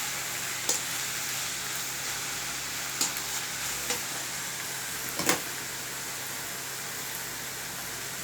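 Safflower greens fry in a pan with a broad, constant sizzling hiss that fills the whole clip, broken by a few soft knocks and scrapes as they are stirred.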